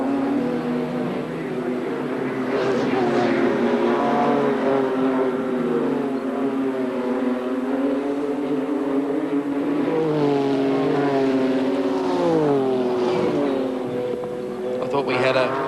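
Race cars lap Amaroo Park during a 1989 Gold Star Series round, engines whining and rising in pitch through gear changes. A commentator talks continuously over the roar.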